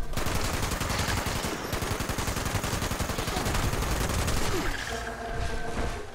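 .50 caliber machine gun in Fallout 76 firing a long, loud sustained burst of rapid shots in a steady rhythm, easing off near the end as tonal game sounds come in.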